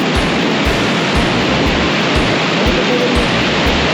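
Mountain river rushing through a remote valley, a steady broadband roar of flowing water close by, with no one speaking.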